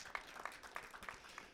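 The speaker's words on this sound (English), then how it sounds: "Raucous round of applause, please," Faint applause from an audience at a photography awards judging session, a thin scatter of separate claps spread across a second and a half.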